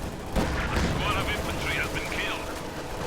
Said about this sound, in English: heavy mortars are just falling left and right